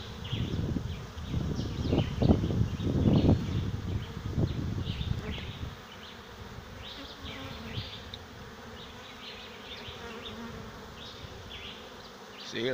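A modest swarm of honeybees settles into a bucket swarm trap, a dense insect buzz that is loudest in the first six seconds, then drops to a softer, steady hum with scattered higher buzzing flights close by.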